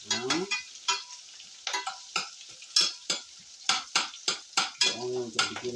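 Onions fry and brown in a pan, a continuous sizzle broken by repeated sharp scraping strokes of a utensil stirring against the pan, close and steady over several seconds.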